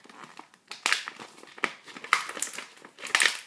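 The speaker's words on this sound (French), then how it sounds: "On va ouvrir le paquet. Qui est un peu énervant à ouvrir." A Pokémon XY trading card booster pack wrapper crinkles and crackles under the fingers in close, irregular bursts of foil crumpling and tearing.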